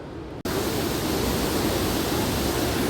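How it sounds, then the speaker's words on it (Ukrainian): Probiy waterfall in Yaremche roars as a steady, loud, broadband rush of falling water that starts abruptly and continues unbroken without voices. "Ну ось він водоспад пробій"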